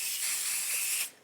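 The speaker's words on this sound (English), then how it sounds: "I'm gonna very lightly spray some basting adhesive underneath the hanky" Basting adhesive sprayed lightly beneath a handkerchief for bridal embroidery, a single close, steady aerosol hiss lasting about a second before cutting off.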